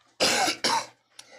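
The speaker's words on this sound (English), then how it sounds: "getting over a cough here" Two harsh coughs in quick succession, close and fairly loud, followed by a softer short throat sound, during a fire authority commission meeting.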